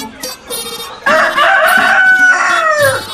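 A Japanese black chicken rooster crows loudly and close at a farm, one long drawn-out call preceded by short clucks.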